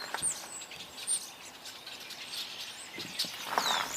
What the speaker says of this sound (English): I suspect we're listening to a mixed flock.